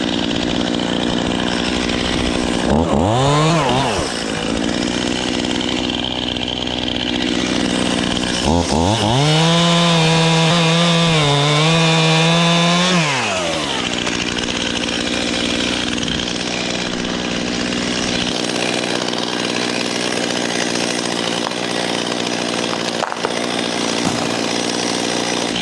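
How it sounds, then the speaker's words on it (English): Chainsaw running at an off-grid tiny house homestead, idling loudly and continuously nearby with two revving surges that rise and fall before settling back to a steady drone. "Forgot to shut the chainsaw off so you can hear the kadoosh"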